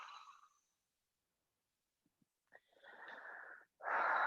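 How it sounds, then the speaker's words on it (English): Deep exhale through an open mouth during a gentle yoga breathing exercise: a breathy release at the start, near silence, then a longer rushing breath and a loud, forceful exhale at the end. "Open mouth, exhale. Let it all go."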